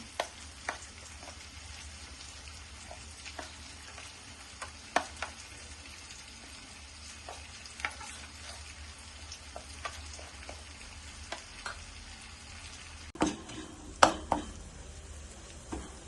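Onions fry quietly in a pan during preparation of mustard hilsa, giving a faint, steady sizzle with a few soft clicks and bumps of utensils.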